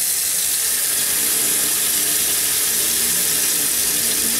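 Cold water pours from a tap in a steady, loud, close hiss that runs unbroken throughout.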